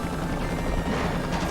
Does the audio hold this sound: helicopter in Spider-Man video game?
yes